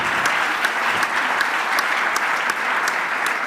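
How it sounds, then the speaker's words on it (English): Dense, loud applause from an audience at a startup competition seed night fills the room steadily for the jury, a continuous wash of many hands clapping with no voices on top. "I would like also to give a big applause to the jury"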